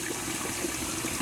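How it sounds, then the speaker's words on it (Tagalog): Tap water runs steadily into a container being filled to 10 liters for a hydroponics lettuce setup, a continuous close rushing gush with no talking. "Hintayin lang po natin mapuno hanggang 10 liters ng tubig."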